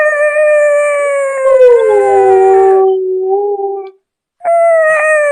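A husky howls close and loud, a long wavering tonal cry that bends downward and fades, then after a short silence starts a fresh howl.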